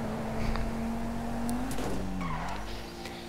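Car driving in the GTA 5 video game, a steady engine hum with pitch shifts as it accelerates and turns, brief tire squeal, continuous and fairly close with no talk.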